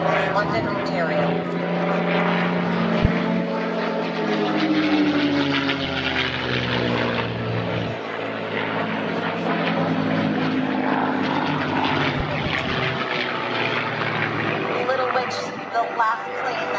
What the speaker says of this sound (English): last plane that just flew past